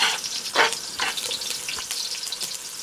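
Beef fries in a thin marinade for Mongolian beef while being stirred, a continuous close sizzle broken by repeated scraping strokes of the spoon.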